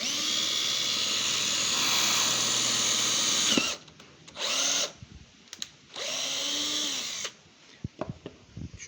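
Three bursts of a power drill whirring, spinning up and winding down, separated by short pauses with faint handling clicks.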